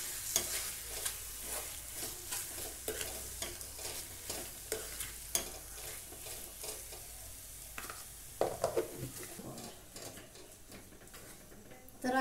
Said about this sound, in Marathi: आणि हे छान असं मिक्स करून घ्यायचं.